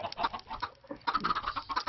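Chickens cluck in quick, overlapping bursts inside a Minecraft chicken farm, video game, a busy cluster of clucks with a brief lull before resuming steadily.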